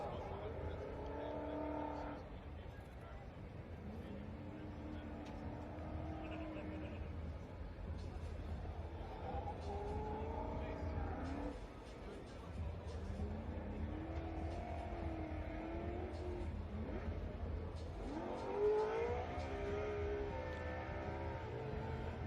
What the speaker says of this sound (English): So Matt Kaufman warms up his tires and pulls up to the start line.